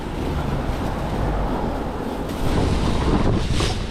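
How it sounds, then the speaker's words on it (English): Strong gusting wind buffets the microphone outdoors, a loud continuous rumble that surges and swells in waves with no talking. "That wind is really gusting"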